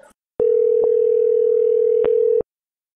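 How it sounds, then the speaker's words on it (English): Steady telephone tone heard during a call placed to voicemail, a single continuous electronic tone lasting about two seconds with faint clicks at its start and end, alone and fairly loud. "I'm going to call it you'll hear the ringing"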